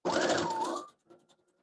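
A sewing machine stitches fabric in a short burst of rapid mechanical whirring lasting under a second, then stops, leaving a few faint clicks from the machine.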